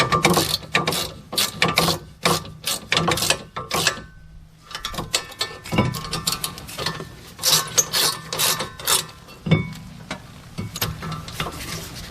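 A ratchet torque wrench tightens caliper bracket bolts on a Pontiac Grand Prix or Chevy Impala, producing rapid bursts of close, crisp clicking in repeated strokes with brief pauses between them.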